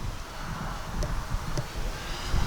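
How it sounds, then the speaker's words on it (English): Strong wind buffets the microphone outdoors while an E-flite Twin Timber RC plane flies, a continuous low rumbling roar with uneven gusts and a couple of faint higher ticks, with no speech. "Whoa, that wind."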